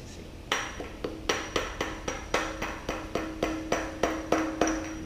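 Metal tapping on an engine part as a 36mm socket drives it into place during a Toyota 4AGE engine rebuild, about a dozen sharp, evenly spaced ringing knocks, close and clear with no talking.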